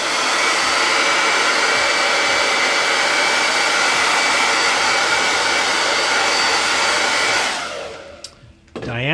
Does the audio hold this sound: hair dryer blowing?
yes